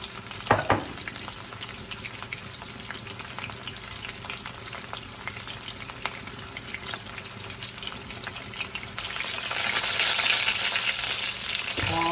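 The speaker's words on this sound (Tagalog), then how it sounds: "Sa lahat, takot ako pag nagpiprito ako ng ganito kasi tumatalsik eh." Chicken in sesame marinade fries in a pan, a steady close crackling sizzle with a sharp burst of spattering near the start and louder, brighter hissing toward the end, with no talking.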